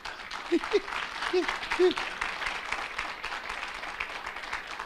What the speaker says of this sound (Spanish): Aplauda para que le veas eso.